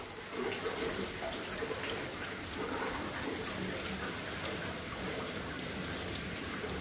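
Heavy rain pours steadily over a flooded courtyard, water rising to the steps, with a dense continuous hiss and patter that stays close and loud throughout.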